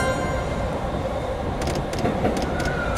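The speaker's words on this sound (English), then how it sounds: "Okay, there's an oncoming train, so I gotta turn off the lights." Oncoming train rushing past in the Densha De Go railway driving game, a loud continuous rumble of wheels and motor with sharp clattering bursts in the second half as the cars pass close by.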